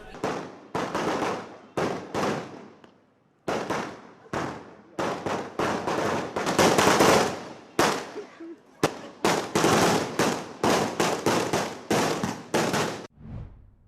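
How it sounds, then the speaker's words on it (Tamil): Firecrackers set off by plantation workers in Hatton celebrating, a loud close string of sharp rapid cracks in irregular bursts with brief pauses between them. "ஹட்டன் பகுதியில் உள்ள பெருந்தோட்ட தொழிலாளர்கள் பட்டாசு கொளுத்தி தமது மகிழ்ச்சியினை வெளிப்படுத்தினர்"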